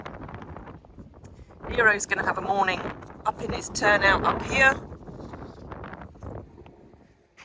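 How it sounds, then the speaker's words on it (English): Strong gusty wind buffets the microphone in roaring bursts while a person speaks over it. "There's stuff everywhere because it's so windy."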